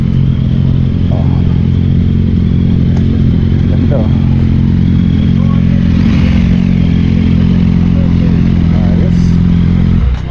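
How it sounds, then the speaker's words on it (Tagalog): A group of motorcycles gathered at a street meetup, engines idling and revving in a steady loud rumble throughout, with people talking nearby over the noise. "Meet up ng mga motorsiklo."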